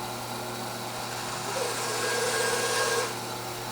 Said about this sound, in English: going to do it with the bandsaw just to show you guys how I push these through